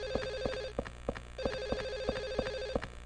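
A telephone rings in the video game Silent Hill 4: The Room, a steady electronic trill pulsing in short repeated bursts over a low hum, alone without voices.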